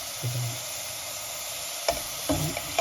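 Spices fry in a pan for a base gravy, sizzling steadily with a few soft stirring scrapes and quick clinks of a utensil against the pan toward the end; no talking.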